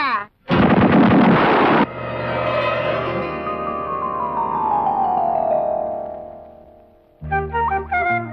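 Coconut bombs going off as a film sound effect: a sudden loud blast followed by a long roaring, ringing rumble that slowly fades, then a few more sharp bangs at the end.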